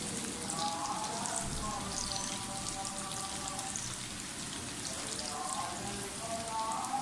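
Onions frying in a pan for potato rice, a soft, even crackling sizzle like light rain, fairly faint and continuous, with a voice speaking quietly in the background.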